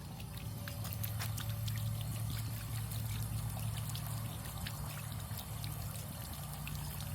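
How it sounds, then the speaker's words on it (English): Water pours and trickles steadily from a public drinking fountain at a historic Route 66 stop in Atlanta, Illinois, a continuous close splashing stream under a low hum, with no talking. "You can get you a drink of water."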